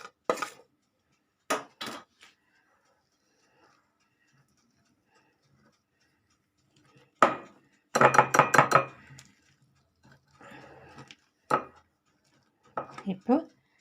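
Plum cake batter being mixed in a bowl, a spoon scraping and clinking against the bowl in short bursts separated by silence, with someone talking between them.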